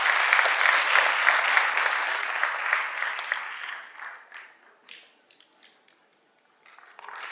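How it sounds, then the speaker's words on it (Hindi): Applause from the audience at a Toycathon competition event at SCERT Kashmir, dense and loud at first, then thinning into scattered claps that fade almost to silence before a few more hands pick up at the end. "Please, can you have a huge round of applause?"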